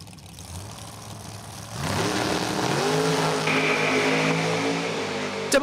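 Big block Chevy drag race cars at Numidia Dragway, engines idling at first, then surging into loud, sustained revving with rising tones, a sharp pop at the end.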